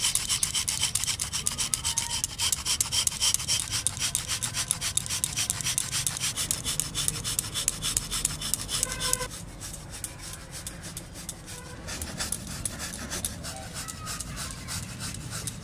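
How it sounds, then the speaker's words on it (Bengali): Block of patali palm jaggery grated by hand for a cake, a fast steady rasping scrape repeated in quick strokes, close and loud, pausing briefly near the end before resuming. "আগে সবার প্রথমে আমি গুড়টা গ্রেট করব করে।"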